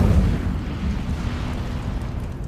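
A fire spell cast in the video game Hogwarts Legacy, a loud roaring burst with a rumbling, whooshing body that stays steady and dense throughout, with no voices.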